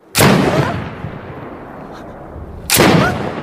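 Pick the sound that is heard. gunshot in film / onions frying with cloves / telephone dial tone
gunshot in film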